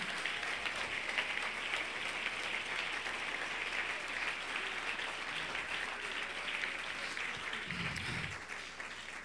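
A church congregation gives sustained applause for the Lord during a sermon, a broad, even wash of clapping that eases slightly near the end.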